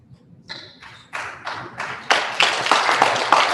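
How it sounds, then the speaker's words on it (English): A few scattered claps from an audience at a book launch build quickly into fuller clapping, growing louder and denser over a few seconds with no talk. "I think let us give him a bigger clap than that."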